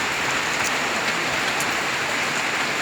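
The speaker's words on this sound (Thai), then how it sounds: "ฝนตกครับ" Heavy rain falls during a storm as a dense, steady hiss of drops that stays loud and unbroken throughout.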